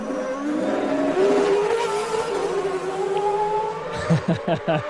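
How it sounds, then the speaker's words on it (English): A CART race car drives on the Long Beach track, its engine note rising and falling as it passes at a distance, with a commentator's voice coming in near the end. "We finally have a car on track."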